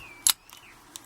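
A Micota 563 60mm brass padlock being picked: a few tiny metallic clicks and a sharp snap as the shackle pops open, close and quiet, with no talking.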